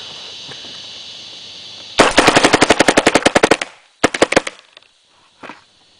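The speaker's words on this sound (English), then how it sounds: "Alright, and I'll go ahead and shoot." A 2009 SLG rifle firing two rapid bursts of loud, sharp gunshots, a long string then a shorter one, with a brief faint pop afterward and silence between; no talk.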